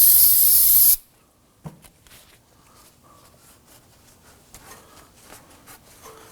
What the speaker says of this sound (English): I'm going to go ahead and use some spray solvent on both connections here.